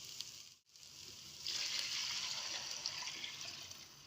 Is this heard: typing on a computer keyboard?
no